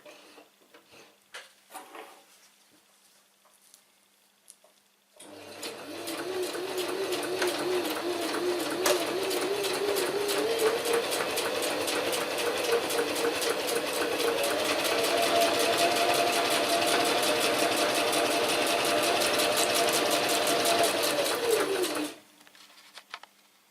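A sewing machine runs in one steady, loud, continuous burst for about seventeen seconds, stitching and backstitching a seam on a Cordura diddy bag, with its motor whine rising slightly in pitch partway through; there is quiet handling before and after.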